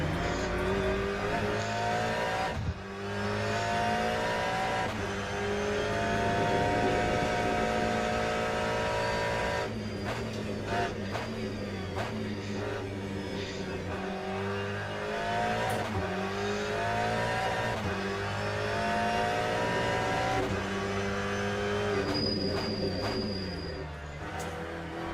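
Race car in the Le Mans Ultimate sim at Portimao, engine droning steadily at high revs with pitch dropping under braking and climbing again on acceleration, continuous and loud with no talking.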